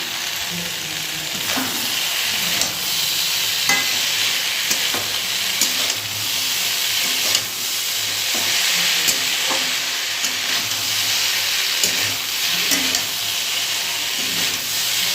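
Soybean chunks stir-fried with spices in oil give a steady, loud sizzle and hiss, with occasional spatula scrapes and clinks against the pan and no voices.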